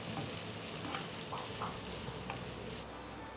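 Shallots fry in a pan for a fish curry, a steady close sizzle with a few faint stirring scrapes and no talking.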